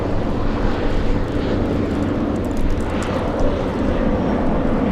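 A fixed-wing airliner taking off at LAX, a loud, steady roar of jet engines filling the air without pause, with no voices heard.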